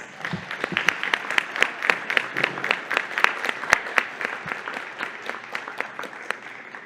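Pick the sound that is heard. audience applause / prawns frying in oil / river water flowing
audience applause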